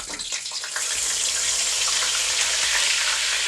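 Onion paste, made from about half a kilo of large onions, hits hot oil for a mutton kofta curry with a loud, steady hissing sizzle that starts abruptly and keeps going close up.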